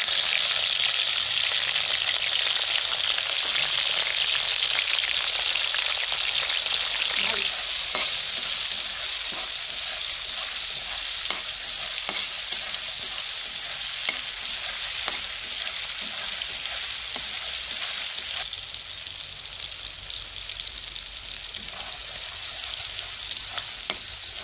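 Prawns fry in hot oil in a pan with a loud, continuous close-up sizzle, broken by frequent scraping stirs of a spatula. The sound holds steady throughout and no one talks.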